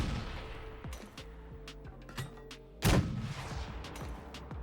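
A mortar launched and exploding in the PUBG video game: a heavy, booming blast stands out near the middle of the clip over a bed of game background noise and music.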